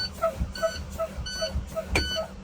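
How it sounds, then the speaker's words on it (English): The low air pressure warning alarm in a bus cab beeps repeatedly and evenly during a pre-trip air brake inspection, several quick tones in a couple of seconds, faint and close over a low engine idle. "There's our light and alarm."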